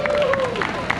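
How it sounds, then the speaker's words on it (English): A crowd applauds at a car show for a red lowrider, brief scattered clapping and cheering heard under a voice talking over a loudspeaker. "Y'all clap it up for him."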